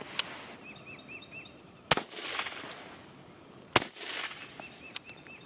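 An MK18 rifle fired with no suppressor outdoors, two sharp, loud cracks a couple of seconds apart, with birds chirping faintly in between.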